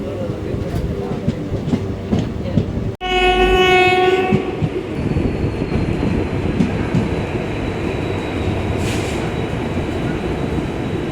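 A loud train horn blasts once after a sharp clunk, then the rumble and clatter of carriages rolling on, with a faint voice now and then.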